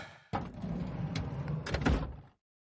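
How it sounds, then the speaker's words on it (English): The passenger door of a car in a video game opens with a single short mechanical clunk, followed by a brief sliding rattle, close and fairly loud, and then silence. "Shimoyama sighed and opened the passenger side door."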